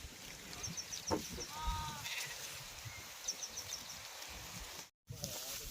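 Sheep bleat a few times at a moderate distance over a steady outdoor background, with some faint voices and rustling.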